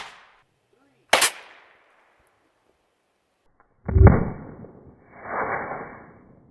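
A 12 gauge dragon's breath shotgun round goes off in a sharp, loud blast, followed a few seconds later by a second, heavier boom with a rumbling tail and a lingering roar; no talking.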